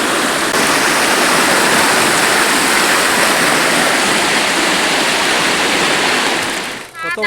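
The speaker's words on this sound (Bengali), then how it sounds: "এই যে দেখুন কত স্পিডে জল নামছে রাস্তার উপর দিয়ে।" Fast floodwater pours over a village road in a loud, steady, close roar of rushing water that holds for the whole stretch before dipping briefly near the end.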